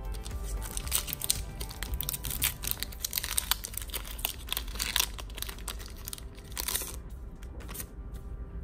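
Pokémon card booster packs from the Sun & Moon Guardians Rising set torn open by hand, a run of close crinkling, tearing foil rips and crunching across the whole stretch, fading into quiet near the end.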